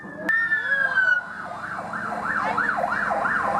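Emergency vehicle siren at a rescue display, with a steady tone sliding down into a rapid rising and falling wail, fairly loud and continuous, with a sharp knock near the start and faint voices in the background.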